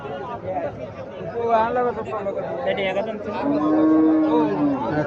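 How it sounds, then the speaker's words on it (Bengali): Cow mooing at a cattle market, a long drawn-out low moo rising near the end amid people talking and general market chatter. "এখানে একটা গাভী দেখা যাইতেছে, মোটামুটি পাশ আছে, গাভীটা লম্বা আছে।"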